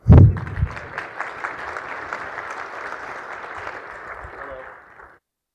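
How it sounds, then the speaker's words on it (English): Audience clapping at a service mesh tech conference talk opens with a loud thump, then settles into steady, moderately loud applause that tapers off after about five seconds. "Everyone clap for Zach Arnold."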